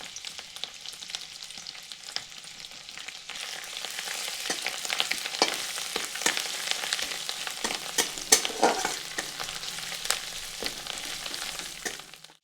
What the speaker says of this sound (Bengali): আর দিচ্ছি কতগুলো কারি পাতা।